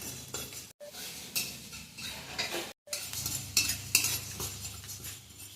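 A spice mix for a village-style kul pickle is fried on medium heat while a spatula stirs it: steady scraping and soft metallic clinks over a low sizzle, close and fairly quiet, with two brief dropouts.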